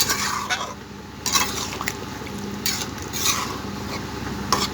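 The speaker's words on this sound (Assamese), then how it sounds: "এতিয়া মই ইয়াতে পানী দি দিম" Water poured into soyabean curry in a pan gives soft liquid splashing and stirring with intermittent scraping clatter, all quiet and close.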